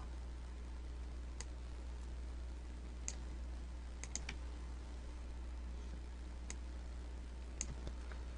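Computer mouse clicks, a few sharp isolated clicks spaced irregularly over a constant low hum, quiet and close.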